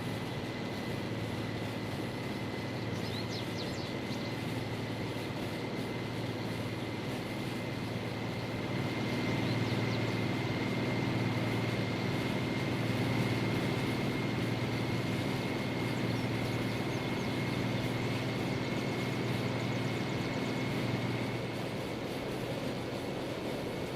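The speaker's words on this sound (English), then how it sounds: "Now that's max throttle, but don't ever run a DH4 at max throttle" A DH4 diesel locomotive in the train game Derail Valley, run at maximum throttle: a steady, loud, droning engine hum with a sustained tonal whine, growing heavier and louder partway through and holding to the end.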